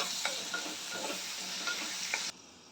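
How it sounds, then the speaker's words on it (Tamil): Shallots and tomatoes sauté in a pan for a dried anchovy thokku, giving a bright, dense sizzle with repeated stirring scrapes until the sound drops away sharply near the end. "2 தக்காளி சேர்த்துக்கிட்டேன். தக்காளியும் கொஞ்சம் வதங்கி வரணும்."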